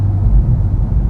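A C8 Corvette with an AWE Touring exhaust gives a deep, close rumble that swells briefly, a short low-pitched exhaust burst with no voices.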